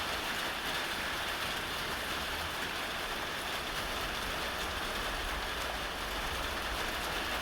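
Heavy rain pours down steadily over the Louisiana bayou, a dense unbroken hiss that stays loud and even throughout with no voices.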